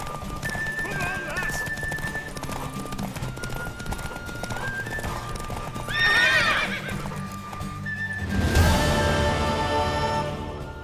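A horse in the video game The Witcher 3 clops its hooves steadily, then gives two loud neighs near the end, with faint game music and ambience underneath.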